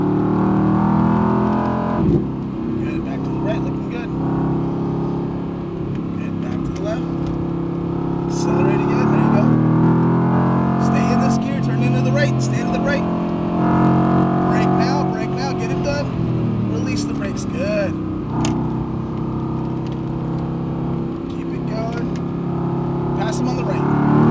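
Mercedes-AMG GT R engine on a racetrack, a loud steady drone rising under throttle with shifts partway through, heard from inside the car beneath a driving instructor's continuous talk.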